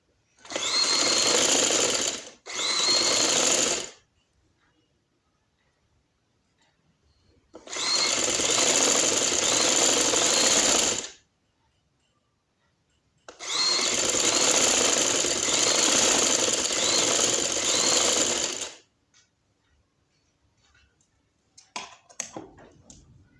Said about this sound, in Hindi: इसके ऊपर रख के सिलाई लगा देंगे